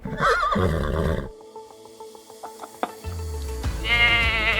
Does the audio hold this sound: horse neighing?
yes